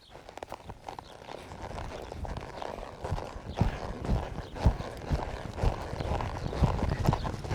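Hooves of a ridden 3-year-old horse clip-clop in a steady, fairly close walking rhythm, continuous throughout with no talking.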